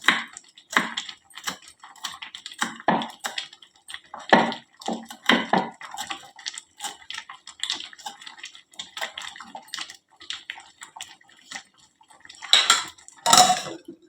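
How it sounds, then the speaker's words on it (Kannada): A knife chops curry leaves, coriander and garlic rapidly on a cutting board, a run of irregular sharp taps up close, with a few louder clatters near the end. "ಕರಿಬೇವು, ಕೊತ್ತಂಬರಿ, ಬೆಳ್ಳುಳ್ಳಿ ಎಲ್ಲನೂ ಕಟ್ ಮಾಡ್ಕೊಳಕತ್ತೇನೆ"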